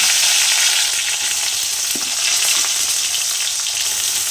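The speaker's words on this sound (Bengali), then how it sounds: "এরপর আবার আমি কড়াইয়ের মধ্যে তেল দিয়ে তারপর পাঁচ ফোড়ন দিয়েছি এরপর আমি এক এক করে সমস্ত ভেজিটেবলগুলো দিয়ে দেবো" Cut vegetables, including potato and radish, fry in hot oil with panch phoron in a wok. Close, continuous sizzling with a brief clink partway through, and no voices.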